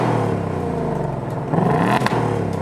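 Exhaust of a 2024 Ford Mustang Dark Horse revving, a loud close rumble that swells into a rising roar with a sharp burst near the end, no one talking.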